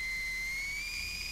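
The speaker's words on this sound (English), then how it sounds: "What's the whistle for? Signaling his people." An enemy in The Last of Us Part II gives a sustained, steady high whistle to signal his people, clear and fairly faint against quiet game ambience, with a slight rise near the end.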